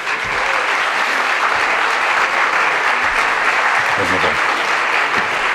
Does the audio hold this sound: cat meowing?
no